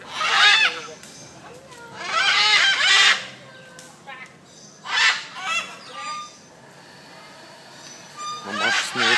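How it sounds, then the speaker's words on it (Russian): Loud, harsh squawking calls from large parrots at a zoo, several bursts in a row with pauses between, close and raucous. "Шумные попугаи."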